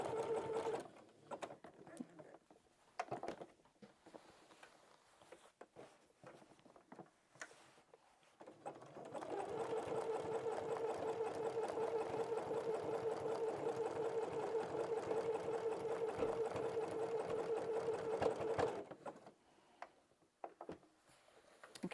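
Home sewing machine stitching zigzags around a pumpkin design on a t-shirt: a few short bursts of stitching, then a long steady run of needle whirring and rapid ticking, close and clear.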